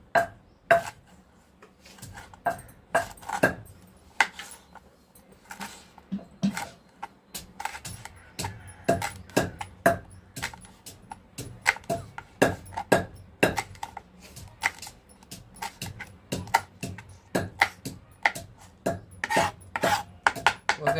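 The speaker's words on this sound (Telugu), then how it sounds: "ఈ విధంగా సన్నగా కట్ చేసుకోవాలి" A knife chops vegetables finely on a cutting board, with quick irregular taps that come in bursts, some louder, spread over a long stretch and heard close up in a quiet home kitchen.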